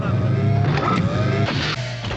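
Engine whine from a race car in the Formula One video game, a steady loud synthesized motor tone with shifting pitch over the short stretch, no voices.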